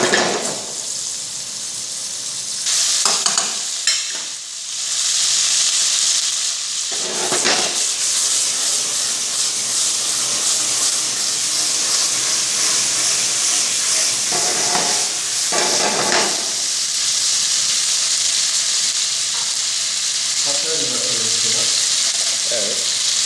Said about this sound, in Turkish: Eti koyduk tavanın içerisine.